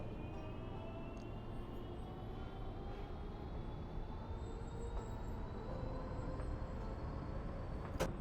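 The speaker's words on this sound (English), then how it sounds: "Let's try driving our train in the middle of the night." A train in the Roblox game Meio Railway drives along at night, with a steady low rumble of wheels and a faint rising whine from the motors, moderately quiet and with no talk.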